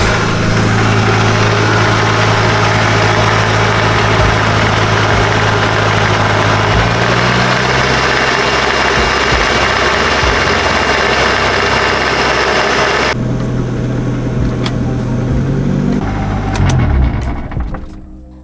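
A Proton Saga with a 4G93 engine running and its gearbox making a rough, loud noise, a steady close mechanical drone that shifts in tone partway through and fades near the end.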